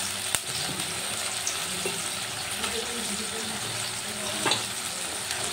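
Fried pabda fish going into a pan of sour-yogurt gravy with a little sugar, giving a steady low sizzle and bubbling with a few soft clinks and stirring scrapes, moderately close and fairly quiet throughout.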